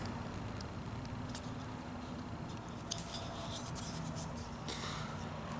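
A knife cuts through leather: quiet scraping and slicing strokes over a low background hum, with a few sharper scratches toward the end.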